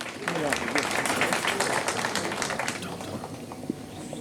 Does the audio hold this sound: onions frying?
no